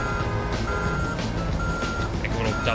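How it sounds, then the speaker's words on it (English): A dump truck reverses in the video game Grand Theft Auto 1 (GTA 1), and its backup alarm beeps at a steady interval over a dense, loud wash of engine and game noise. "Make a little dump truck noise while we're backing it up."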